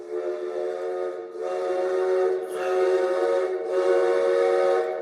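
A sustained steam-train whistle sounds loud and close, a steady multi-tone chord that swells and dips in several long blasts with brief breaks and no talking.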